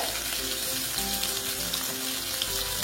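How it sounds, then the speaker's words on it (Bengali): Pabda fish fries in hot oil, a steady close hiss and sizzle with bright crackling pops scattered throughout, alone with no voices. "বাবা মাছটা যা ফাটছে তো, মোটামুটি আমার ভাজা হয়ে এসছে"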